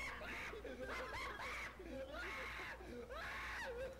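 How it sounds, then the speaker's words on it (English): Shrill, wavering screams as if in pain, repeated in several strained bursts with squawking, bird-like breaks, held close and steady over a low background. "Oh, enjoy the screams."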